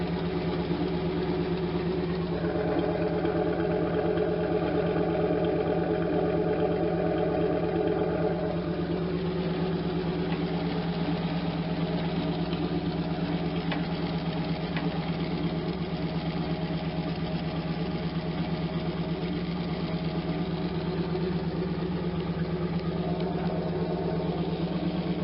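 A Z28 Camaro engine idles steadily throughout with a stock muffler. A small exhaust leak adds a light tapping, and no one talks over the continuous low drone.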